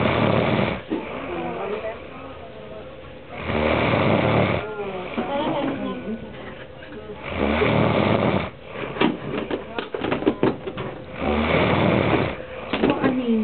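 Loud snoring from a sleeping person, with long rough breaths repeating in a slow, steady rhythm, close by, and a voice talking in between.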